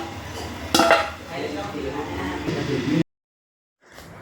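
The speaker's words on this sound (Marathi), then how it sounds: "मी आता गॅस बंद करते आणि झाकण ठेवते" A lid set down on a cooking pan of freshly made paneer curry, a bright metallic clink followed by clattering pot sounds under faint background noise, then a brief silence.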